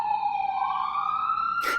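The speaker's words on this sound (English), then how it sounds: "The police sirens are chiming in on this conversation." A police siren in New York wails steadily at a distance, its pitch slowly climbing, with a brief burst of noise near the end.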